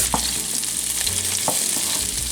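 Onions, pepper and garlic hit a hot pan for beef-tip stuffed peppers, a loud, steady sizzle with a few sharp spoon knocks and stirring scrapes, close and without any voices.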